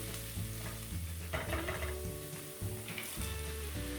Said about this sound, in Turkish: Pırasamızı güzelce kavuralım ve sönmesini bekleyelim.